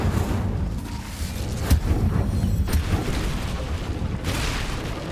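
A fiery Incendio spell blast in Hogwarts Legacy: a loud, sustained roaring rumble with heavy low-end boom, punctuated by two sharp bursts, then a brighter whooshing flare near the end, with no talking.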